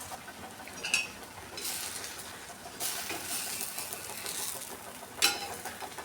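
Spatula scraping and loosening a tomato dosa from a thick griddle, with soft sizzling and several sharp scrapes and clinks at intervals, close by and without talk.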